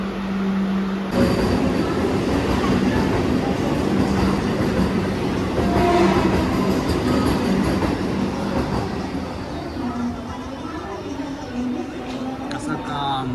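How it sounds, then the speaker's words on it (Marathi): A Vande Bharat express train bound for Solapur runs past with a loud, sustained rumble and rattle of wheels on rails, and faint squealing rising near the end. "आता ही सोलापूरला जाणारी वंदे भारत आहे"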